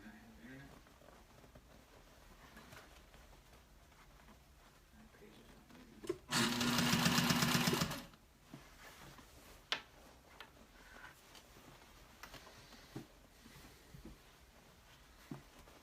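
A sewing machine runs in one short, loud burst while stitching fabric for a slouch bag. Soft handling noises and quiet room sounds come before and after it.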